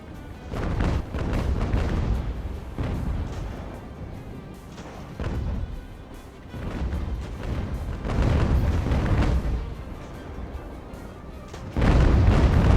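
Repeated booming blasts of ship cannons firing in the game Ultimate Admiral: Age of Sail sound in loose bursts over a continuous rumbling background, with no talking.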